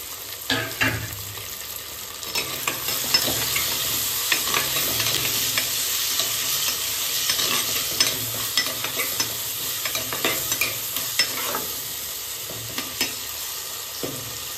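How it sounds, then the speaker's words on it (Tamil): Onions and tomatoes sizzle and fry in a pan while a utensil scrapes and stirs in frequent, irregular strokes, close and steady throughout. "வெங்காய தக்காளி கொஞ்சம் வதங்கிடுச்சு"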